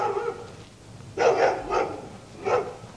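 A dog barks nearby in a few loud, separate bursts spaced about a second apart, with quieter whining and background sound between them.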